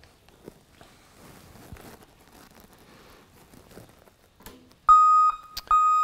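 After soft shuffling and handling noises, an ECCO variable-loudness smart backup alarm, triggered by a switch behind a counter, sounds two sharp, high-pitched electronic beeps.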